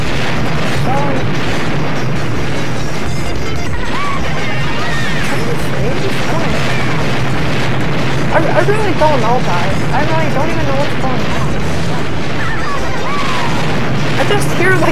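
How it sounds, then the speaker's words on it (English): Bomb explosions in an online race of Mario Kart Wii, booming crashes mixed into loud, continuous game music and engine noise, with someone talking over them. "I just hear like a bunch of bomb explosions."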